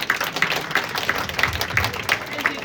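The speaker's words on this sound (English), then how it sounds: "Let's give them a round of applause." A real estate association audience applauding a panel, rhythmic clapping at a steady pace, fairly close and moderately loud, with a voice speaking over part of it.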